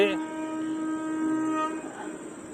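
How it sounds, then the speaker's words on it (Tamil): An express train rumbles past nearby with a sustained tonal hum, a steady rolling roar that fades slightly toward the end. "இப்போ ஒரு எக்ஸ்பிரஸ் ட்ரெயின் வந்துட்டுருக்கு."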